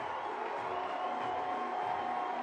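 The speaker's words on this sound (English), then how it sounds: "And listen to this crowd." Soccer stadium crowd in Lexington cheering after a home goal, a continuous loud roar of voices filling the short span without letup.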